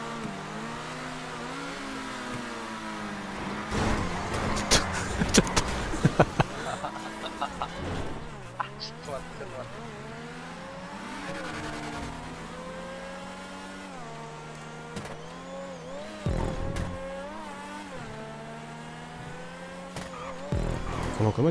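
A car in GTA 5 revs and accelerates, its engine rising and falling in pitch over about twenty seconds, with several sharp bursts that suggest tire squeal, while game music or other sounds play underneath.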